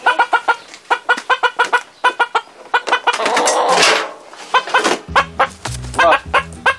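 A chicken clucks in quick repeated bursts, close by, with a longer squawk in the middle and some low rumbling background noise near the end.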